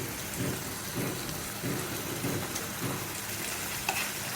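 Pistachio paste stirred into a hot pan of sizzling ginger-garlic paste for an egg korma: a dense, steady frying hiss with soft, repeated scraping stirs underneath, close and fairly loud.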